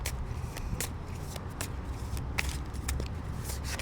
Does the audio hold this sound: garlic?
no